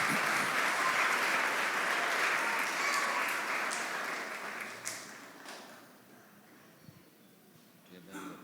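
Welcoming applause from a church congregation greeting a visiting pastor, a dense sustained wash of clapping that holds steady, then thins and fades over the last few seconds with a few scattered claps.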